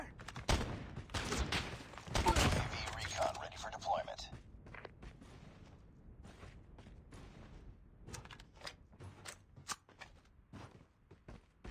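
Sniper gunfire, a few sharp distant shots and a burst early on, mixed with shuffling footsteps and mechanical creaks as people shout nearby.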